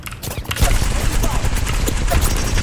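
Gunfire in a video game, fired while testing a Signo WG-900 gaming mouse, sounds as quick clattering shots in a dense run under someone talking.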